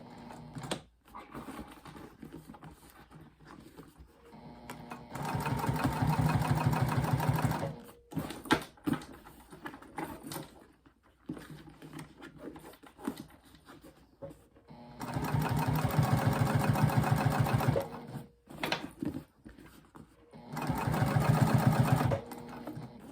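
A sewing machine stitches a retreat bag in three long runs of rapid, even needle rattling, loud and close, separated by quieter stretches of fabric handling and small clicks.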